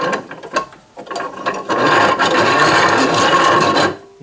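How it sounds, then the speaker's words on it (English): Unscrewing the screw of an old, unoiled bench vise salvaged from a scrap yard: a few scattered clicks and scrapes, then a sustained close grinding, rasping turn for about two seconds before it stops. "Let's go ahead and unscrew this all the way out."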